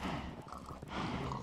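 A horse in the video game Minecraft gives a brief, muffled clip-clop of hooves with a faint whinny-like tone over low game ambience.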